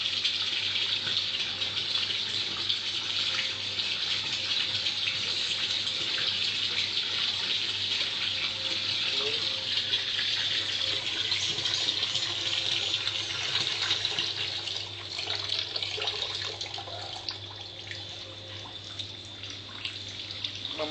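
Water gushes steadily from a pipe into a pool, a continuous broadband rushing and splashing that stays loud and unbroken throughout, with no voices.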